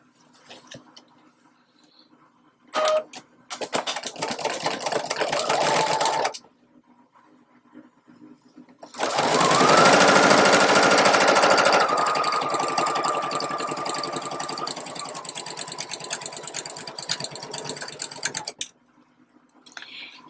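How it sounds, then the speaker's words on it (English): A home sewing machine stitching the top seam of a bag through pinned fabric, heard up close in two steady whirring runs, a short burst followed by a longer continuous stretch, with quiet pauses between. "I'm going to pin right sides together and sew my top seam."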